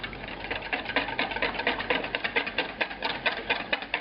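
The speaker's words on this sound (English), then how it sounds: "And you whisk it until it's free of lumps" Fast, steady whisking of a fritter batter made from rice flour, cornstarch, egg and cream, a dense run of quick scraping taps against the bowl that keeps up without a break and stays close.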